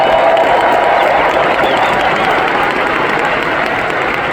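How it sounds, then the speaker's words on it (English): A loud arena crowd at Vince Carter's Brooklyn Nets retirement night applauds and cheers in a dense unbroken roar that fades slightly toward the end. "Please give them a round of applause."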